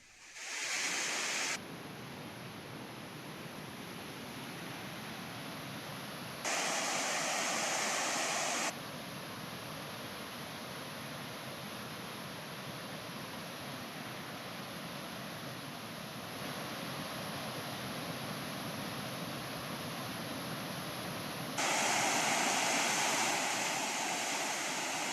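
Floodwater gushes from the Pulavakkal dam in a steady, roaring rush of broadband noise that holds for the full stretch, with no voices and only slight shifts in loudness.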